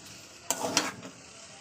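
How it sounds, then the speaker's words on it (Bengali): Potatoes and prawn curry masala being sautéed in a pan give a short sizzling, scraping stir lasting about half a second, fairly close and moderately quiet, with no talking. "দেখতেই পাচ্ছেন এটা ভালো করে কষে নিচ্ছি"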